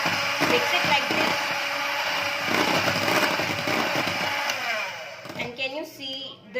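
Sponge cake batter being mixed, a steady whirring and churning that runs for several seconds before slowing and breaking into uneven bursts near the end; a voice is briefly present.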